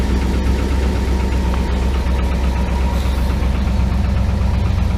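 A car engine idles steadily at startup with a bad lifter ticking from the top end, heard through brand-new tailpipes. The close, constant rumble runs alone with light rhythmic knocking throughout.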